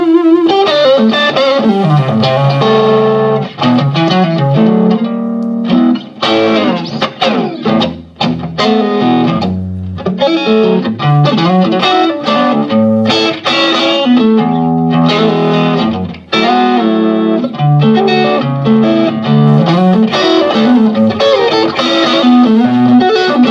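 An electric guitar with its volume knob turned up, heavily distorted, plays a loud, continuous run of chords and riffs that rings on without pause, at a guitar store in Rockville, Maryland.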